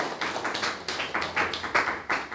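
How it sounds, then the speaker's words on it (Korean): A church congregation claps in thanks during Sunday worship announcements, a short burst of brisk, fairly close clapping with uneven rhythm. "박수로 감사합니다"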